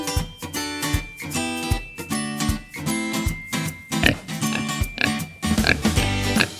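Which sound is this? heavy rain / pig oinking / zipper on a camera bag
pig oinking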